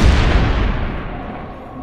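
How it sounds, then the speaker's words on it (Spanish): A heavy low boom rolls out and slowly fades, a single boss bomb explosion in Plants vs. Zombies with a long rumbling tail. "El jefe vuelve a lanzar otra bomba."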